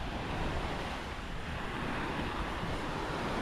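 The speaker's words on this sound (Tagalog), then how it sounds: "ganito nakalalaki ang alon ngayon" Sea waves rolling and breaking on the shore, a steady broadband wash with some wind noise on the microphone, continuous and fairly loud throughout with no voices.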